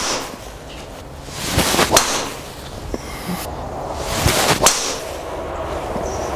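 A Titleist TSR3 titanium driver strikes golf balls outdoors: two sharp, crisp impact cracks a few seconds apart, each followed by a whooshing ball flight over steady background air noise.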